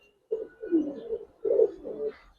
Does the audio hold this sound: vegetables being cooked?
no